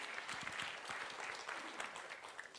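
A church congregation stands and claps loudly in worship, a brief, continuous burst of many hands heard at a moderate distance.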